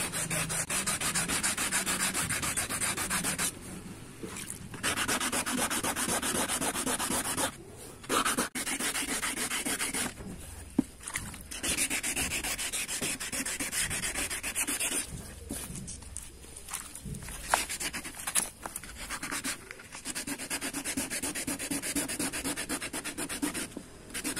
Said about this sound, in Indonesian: Nah, kita amplas dulu ini supaya lapisan luarnya